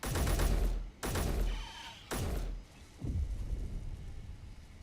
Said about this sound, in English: Was that another explosion I heard?